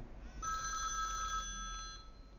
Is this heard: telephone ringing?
yes